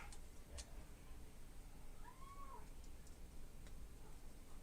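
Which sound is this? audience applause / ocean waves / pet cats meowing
pet cats meowing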